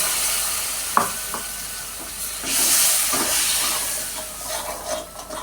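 Spiced water poured into a hot pan while cooking besor, a Jagannath temple vegetable prasad, bursting into a loud hissing sizzle that swells then settles with stirring scrapes, close up with no voices.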